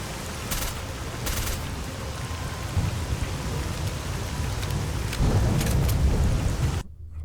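Thunderstorm weather in the video game Stalker Call of Pripyat: steady heavy rain hisses throughout while thunder rumbles and cracks swell, then the sound cuts off abruptly near the end.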